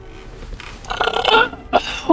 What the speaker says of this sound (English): that's the 18th Belch of the night.